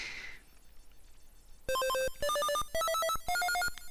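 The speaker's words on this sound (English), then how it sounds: "It's even got the same little sound effects when you're eating the cherries." Atari 2600 version of the Mr. Do video game, playing the cherry-eating sound effect: a short run of loud, square-toned electronic beeps in rapid stepped bursts after a quiet start.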